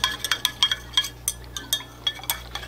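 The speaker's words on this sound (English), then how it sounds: "Let's mix it very well." A utensil stirs homemade baby wipe solution in a bowl, making quick repeated light clinks and scrapes against the bowl in a steady rhythm, close up over a faint background hum.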